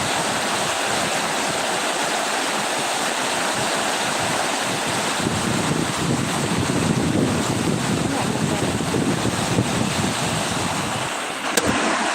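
Steady roaring wind with a rushing, wet wash of heavy rain during a rainstorm in Tak Province, Thailand, continuous and loud, gusting stronger partway through.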